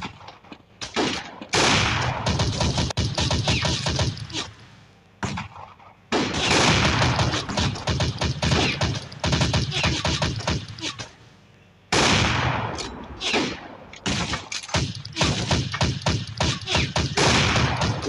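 Loud, dense gunfire from the sniper shooting game Blazing Sniper comes in long, sustained volleys broken by short pauses, with heavy booming impacts throughout and occasional voice underneath.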